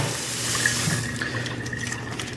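Water runs steadily from a gooseneck faucet into a kitchen sink, a close, continuous splashing stream that softens slightly toward the end.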